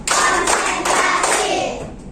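Hands clapping in a counting clap game led by a teacher in a classroom, several crisp group claps in quick succession, close and fairly loud, with faint children's voices.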